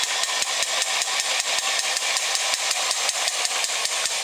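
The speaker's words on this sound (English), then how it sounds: "he's got all these gears in his head, and they all turn with colored flashing lights, and of course it's bump and go" A vintage early-1960s bump-and-go toy robot with turning gears in its head runs with a fast, steady mechanical whirring rattle, close up and continuous, ticking evenly throughout.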